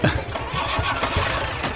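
A cartoon motorbike engine from Motu Patlu sputters into life with a loud, rough, continuous rumble, close and busy from start to finish.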